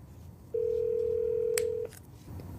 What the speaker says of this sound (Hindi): बराक ओबामा जो पूर्व राष्ट्रपति हैं, वो वोटर्स को इंडिविजुअल लेवल्स पर फोन कर रहे हैं।